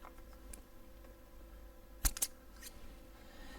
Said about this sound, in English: When you're cutting the tubing with the scissors, it tends to flatten out at the tip